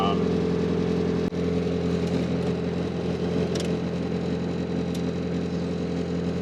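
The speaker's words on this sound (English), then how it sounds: "Man, it really does sound good," A Bobcat T870 compact track loader with about 7,600 hours idles steadily, a continuous low mechanical drone close by with a brief click early on and faint higher whines above it.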